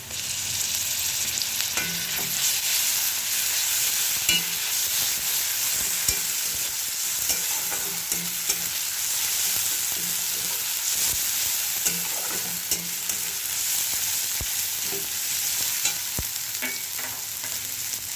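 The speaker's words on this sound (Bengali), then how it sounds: "পেঁয়াজটা হালকা ভাজা হয়ে গেছে এখন আমি দিয়ে দিলাম আদা রসুনের পেস্ট হাফ চা চামচ" Onion frying in a pan with ginger-garlic paste just added, a dense continuous sizzle with occasional soft stirring taps, close and steady with no talk.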